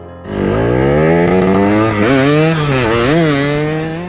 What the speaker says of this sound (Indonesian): Keduanya segera berlari menuju motor RX King milik Acan dan segera mengejar Deden.